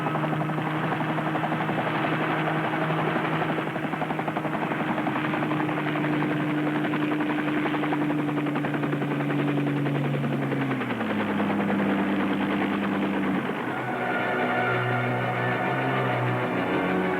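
Helicopter coming in to land, a steady loud rotor and engine drone with a throbbing beat, pitch dropping midway as it settles, continuous throughout with no talk.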